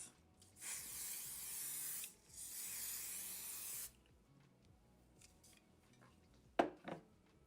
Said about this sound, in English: go in with a medium to kind of firm holding spray